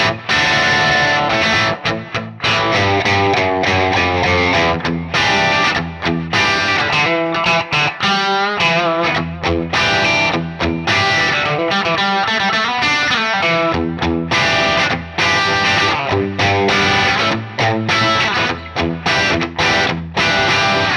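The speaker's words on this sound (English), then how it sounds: "as soon as you start to bring the gain up, you get this very spanky, very bright, snappy, spanky tone" Electric guitar played through a Metro-Plex MK II 100W amp with the gain raised, giving a bright, snappy, spanky distorted tone; a continuous loud riff of chords and single notes with no talking.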